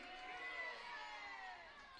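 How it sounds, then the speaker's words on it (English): A crowd at a college softball game cheers and shouts, a bright, sustained roar of voices that swells briefly and then tapers off. "Crowd getting into it, showing her the love that she deserves"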